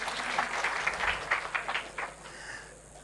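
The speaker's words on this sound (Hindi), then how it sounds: "ताली बजाओ इनके लिए" Audience clapping at a talk about railway stations, a burst of dense applause that swells and then tapers off over about three seconds, moderately loud and without speech.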